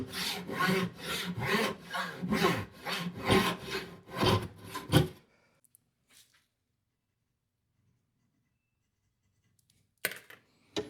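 Hand plane shaving a wooden board along the grain for a laminated workbench top: about a dozen even, rhythmic rasping strokes for five seconds, then near silence with a couple of brief knocks near the end.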